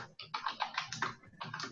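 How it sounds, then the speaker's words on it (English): Computer keyboard typing in a rapid, uneven run of clustered key presses, with a brief pause before another quick burst resumes, heard up close with no voices. "We hear you typing, Norma."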